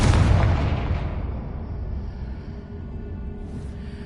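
A Confringo fire-blast spell detonates in Hogwarts Legacy, opening with a loud, heavy boom that rolls off into a long, rumbling decay and lingering low roar, with no voices over it.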